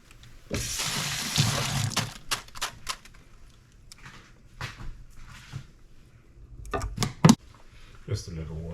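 A little water poured into a pan while cooking a roasted pork shoulder, a short splashing gush followed by scattered clinks and knocks of kitchen handling, close by.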